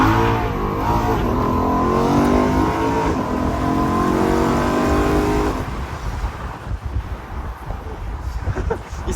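A BMW M3 E93 convertible engine revs and accelerates hard from inside the car at sunset, a loud rising harmonic drone through the gears for about five seconds before easing into steady road and wind rumble.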